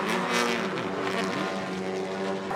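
A race car engine roaring at high revs on the throttle during motorsport racing, a loud, continuous buzzing drone that holds steady with slight pitch wavering.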